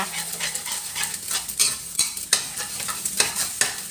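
Eggs being stir-fried in a pan for a Thai sponge gourd dish, with steady sizzling broken by repeated scraping and clinking strokes of a spatula or utensil against the pan, close and fairly loud, no talking.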